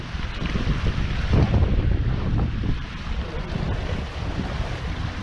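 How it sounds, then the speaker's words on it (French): A 15-knot wind rushes in gusts over water as the hull of an Océanis 40 sailboat swishes through waves in a continuous, moderately loud wash. "un petit coup de vent là à 15 nœuds"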